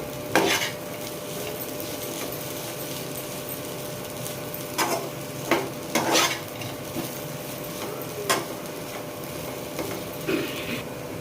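Ivy gourd being fried with chili powder in a pan, with a steady low sizzle and intermittent scraping stirs of a utensil against the pan, no talking.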